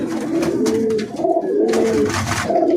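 Pigeons coo in repeated soft, throaty calls, rising and falling one after another close by, with no talking.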